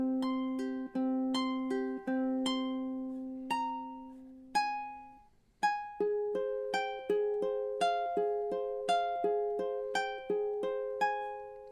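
Fingerstyle ukulele plucking the melody of Spanish Romance, bright picked notes with ringing sustained tones, one held low note giving way to a busier, rising run of arpeggiated notes, alone and close.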